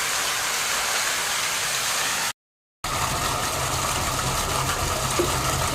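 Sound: pump running, filling sump with water

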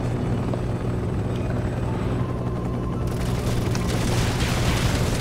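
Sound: helicopter flying in the video game Resident Evil 6

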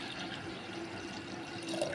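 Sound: pouring water onto moth beans in pot

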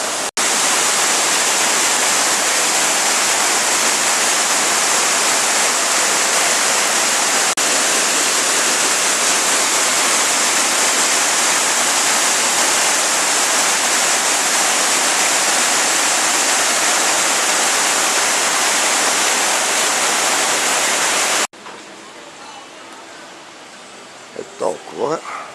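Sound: artificial waterfall flowing

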